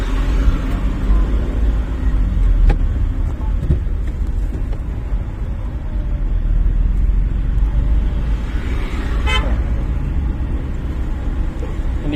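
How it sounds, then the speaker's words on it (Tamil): Car in second gear during a driving lesson, a steady close engine drone from inside the cabin with road rumble and a brief clunk near the middle, no talk. "எக்ஸைட் புஷ் பண்ணுங்க, ரெண்டாவது கியர் போடுங்க."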